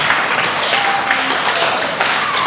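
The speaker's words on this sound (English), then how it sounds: "Big clap for Mr. Sands." School award assembly audience clapping for a teacher, a dense, loud wash of applause from a crowd that stays steady for a couple of seconds.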